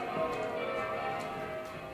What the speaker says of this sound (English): Merry bells, glorious, glorious.